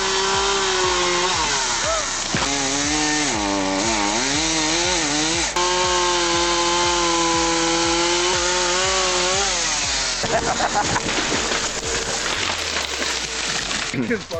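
A chainsaw cutting a tree revs with a whining, wavering engine pitch for several seconds, then bites into the wood with a rougher, noisier grinding near the end, loud and close.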